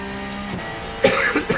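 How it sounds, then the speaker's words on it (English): A single cough near the end, abrupt and close, following a low steady hum during an iRacing Porsche Cup race at Monza. "still got that cough"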